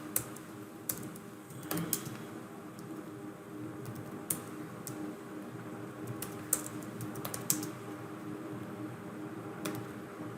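Faint keyboard typing while configuring a Cisco switch, scattered key clicks and a few quick bursts over a low steady hum, with no voices.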